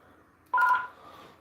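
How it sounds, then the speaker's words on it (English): A landline telephone rings once, a single short electronic tone that starts sharply, holds briefly and then fades into a quiet room. "oh, phone's ringing"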